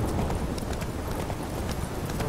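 Roach, a horse in the Witcher 3 video game, gallops in a steady rapid clip-clop of hooves that runs loud and continuous throughout, with no talking.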